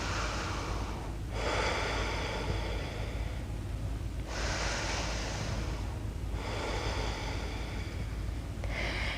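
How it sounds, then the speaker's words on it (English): Slow, deep breaths drawn in and let out during a yoga pose, four long airy inhales and exhales in a steady rhythm, close and alone with no talk. "Long, deep breath."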